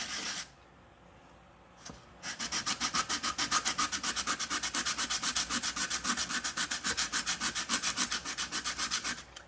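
Coarse 80-grit sandpaper is rubbed by hand over a cement pot, a brief scrape at first and then a long run of fast, even back-and-forth strokes, close and gritty, with no talk.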